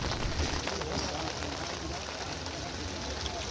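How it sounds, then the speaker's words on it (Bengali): Rain falls outdoors beside a fishing pond, a constant soft hiss of drops with no breaks, with faint voices in the background. "বৃষ্টি অলরেডি শুরু হয়ে গেছে।"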